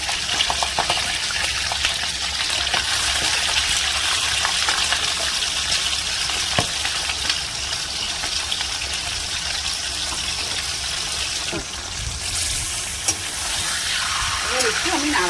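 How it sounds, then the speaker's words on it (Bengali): Chicken pieces for a korma fry in hot oil over medium-low heat, giving a dense, steady sizzle and crackle that continues throughout with occasional louder spits. "দেখুন এবার আমি চিকেনগুলো তেলের মধ্যে ছেড়ে দেব।"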